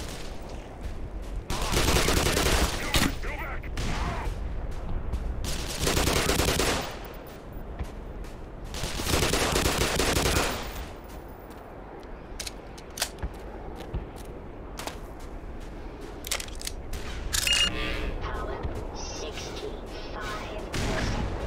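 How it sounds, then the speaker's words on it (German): A hand grenade goes off in the video game Black Mesa, part of a run of loud, sharp game blasts and bursts of gunfire spread across the clip, alternating with quieter stretches. "Das klang sehr nach einem Granatwerfer."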